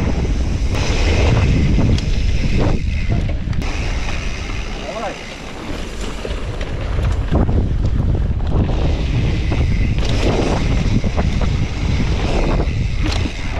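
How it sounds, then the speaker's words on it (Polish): Strong wind gusts buffet the microphone outdoors at an airline (slackline) spot with flags flapping, a loud continuous roar that swells and eases throughout. "dzisiaj troszeczkę wieje, jak widać po flagach"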